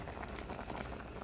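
A pot of paksiw, fish stewed in vinegar, boiling hard, giving continuous close bubbling and popping at an even level, no talk.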